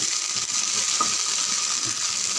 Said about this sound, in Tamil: வெண்டைக்காய் நல்லா வதங்கியிருக்கு பாருங்கள்